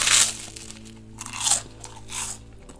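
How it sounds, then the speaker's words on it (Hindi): Loud, close crunching bites of crispy chicken wings and toast, three distinct chomps spaced about a second apart with chewing between them, no talk. "जहां वे कुरकुरा खाना सस्ते पदार्थों के साथ खाने लगे, जैसे कि चिकन विंग्स और टोस्ट"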